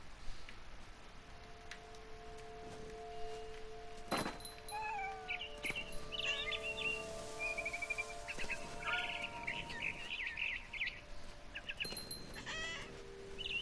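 A cat in What Remains of Edith Finch meows several times amid scattered bird chirps and light ticking sounds, the calls moderately close and separated by short quiet gaps.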